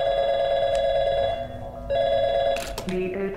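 Telephone ringing in the video game Portal 2, a bright electronic bell that rings steadily, pauses briefly and rings again, followed by a few sharp clicks and tones.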